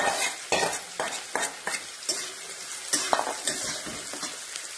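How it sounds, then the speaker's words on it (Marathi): Onion frying in a hot pan with cumin, stirred with a utensil in repeated sharp scrapes and taps over a steady sizzle, close and fairly loud with no talk. "कांदा टाकूया आपण"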